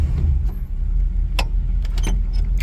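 A 1954 Buick Super Riviera idles with a deep, close rumble while the column shifter is moved back into drive, giving a couple of sharp mechanical clicks and clunks.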